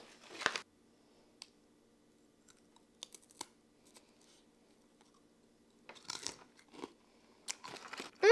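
Someone chewing crunchy honey mustard pretzel nuggets at close range, with sparse, sharp crunches separated by near-silent pauses and a denser run of crunching near the end.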